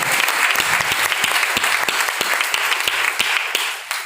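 Audience applause at a business seminar, a sustained, energetic burst of many people clapping, with a few sharp individual claps standing out near the listener.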